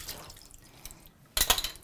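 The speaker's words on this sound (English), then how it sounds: "Squeezing out the water." Water squeezed out of the brush roller of a Dreame H12 Pro cordless wet-dry vacuum, with faint dripping early on and then a sudden burst of splashing and trickling near the end, close by with no talk.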